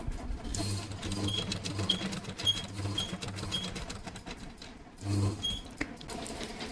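A sewing machine stitches the slit of a chudidar top in short close bursts, its motor whirring and needle pattering with brief pauses between runs.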